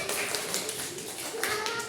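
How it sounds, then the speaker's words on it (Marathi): A class of senior kindergarten children claps hands during a puppet game, giving a loose patter of scattered claps over a steady background din. "अरे टाळ्या नीट वाजवा."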